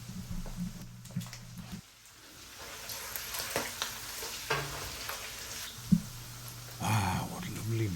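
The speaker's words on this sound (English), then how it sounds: "Browning belly pork. Ginger, sugar, oil." Belly pork browns with ginger, sugar and oil in a Yum Asia rice cooker, giving a steady sizzle and crackle with a few stirring clatters, while a voice talks over it.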